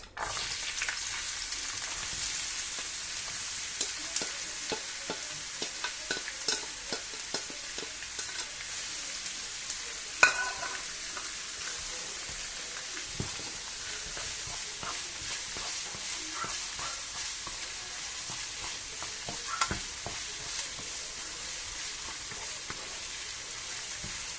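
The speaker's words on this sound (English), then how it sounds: "So let's fry our onions." Onions frying in a hot pan, a continuous dense sizzle with crackles and occasional pops, close and steady throughout.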